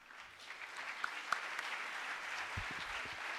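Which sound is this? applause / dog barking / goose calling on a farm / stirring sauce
applause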